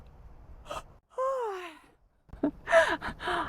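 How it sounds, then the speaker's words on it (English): A long, drawn-out yawn with a rising then falling tone, followed by a breathy exhale and a few soft vocal sounds, close and fairly loud. "I yawn whenever energy shifts."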